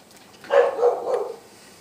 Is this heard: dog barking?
yes